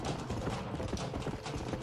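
Horse hooves clip-clop steadily in the video game Red Dead Redemption. The quick, even footfalls ring out clearly and fairly loud, with no talking over them.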